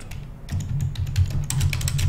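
Rapid typing on a computer keyboard, a steady run of close, crisp key clicks with a brief pause near the start, no voices.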